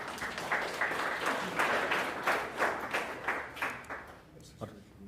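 An audience claps at the WESSA Blue Flag and Green Coast awards ceremony, a dense round of applause rising in rhythmic pulses and then fading out, with a voice briefly audible near the end.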